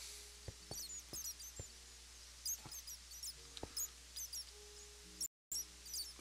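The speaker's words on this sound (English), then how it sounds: "The only reason I can tell they're bats is because of the chirping and the way they're flying sporadically." Bats in a Minecraft Harry Potter map give faint, high, scattered squeaky chirps in quick little clusters, with a few soft clicks in a quiet setting.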